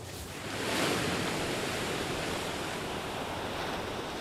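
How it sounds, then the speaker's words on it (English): Pacific Ocean swell breaks in a loud, continuous roar of surf that swells up in the first second and then holds steady, with no voices. "The Pacific Ocean swell gives an idea of what the warriors had to contend with."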